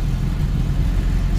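A Toyota Kijang Super engine runs loud and close, its low throbbing rumble holding steady as the throttle is raised, with no voices.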